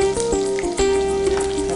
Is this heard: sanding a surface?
no